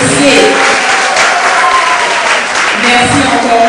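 Audience applause at a film premiere in Chicago, loud and steady, with voices and crowd noise mixed in throughout.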